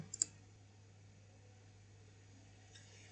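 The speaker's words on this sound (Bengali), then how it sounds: "দেন এন্টার" Enter key pressed once on a computer keyboard: a faint, quick double click near the start, then only a low steady hum in a quiet room.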